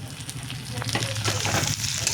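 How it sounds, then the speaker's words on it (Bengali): Onions and chopped tomatoes sizzle steadily in a hot pan, with scraping stirring strokes breaking through the continuous frying hiss at close range. "টমেটোগুলো ভালো করে পেঁয়াজের সাথে মিশিয়ে নেব, সবগুলোর সাথে মিশিয়ে নেব।"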